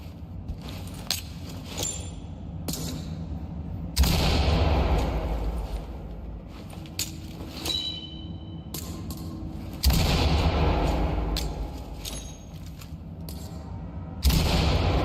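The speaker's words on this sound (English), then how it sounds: "Grab a few flashbangs from the table. Go ahead and throw them through the open windows." Flashbang grenades going off in the Ready or Not tactical police shooter, three loud sharp bangs spaced several seconds apart over a busy background of game noise.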